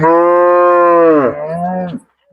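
Village cattle at a cattle market give a loud, close, drawn-out moo lasting about two seconds, wavering in pitch before cutting off.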